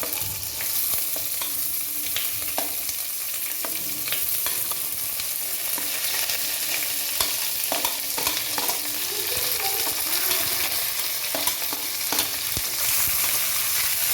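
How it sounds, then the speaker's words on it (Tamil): Shallots, green chilli and curry leaves sautéing in a pan for a Sunday mutton dish, a steady close sizzle broken by repeated scrapes and clinks of a stirring spoon, with no one talking. "வெங்காயம் நல்லா வதங்கிடுச்சு."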